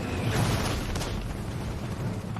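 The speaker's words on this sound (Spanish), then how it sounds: "los disparos de los morteros enemigos apuntan de nuevo a la compañía C" Enemy mortar rounds exploding in a World War II battle, a continuous loud rumbling blast with deep booming low end throughout, no voices.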